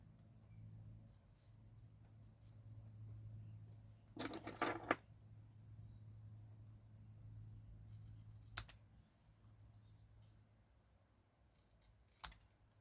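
Scissors cutting paper card at an angle during a craft project, with a few brief crisp snips standing out over a quiet low background hum.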